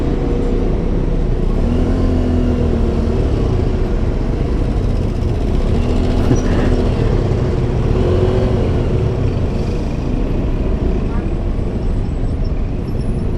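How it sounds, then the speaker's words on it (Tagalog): Heavy town traffic by the market in Rosales, Pangasinan, with a steady loud rumble of car, bus and truck engines passing and accelerating close by. "Uy, grabe ang traffic."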